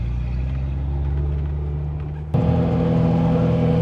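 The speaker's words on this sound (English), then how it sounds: "Here we go, out into the sunshine in a Ferrari" A Ferrari 348 Spider engine hums in a low, steady drone from inside the car as it pulls out into sunshine, then the sound abruptly brightens and grows louder partway through, a fuller rumble with rising tone.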